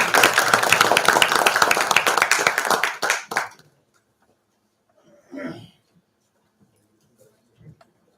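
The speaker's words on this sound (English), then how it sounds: "Please give a big round of applause." Audience at an academic course ceremony applauding a chief guest, dense close clapping for about three seconds that quickly thins and stops, followed by near silence with a few faint shuffles.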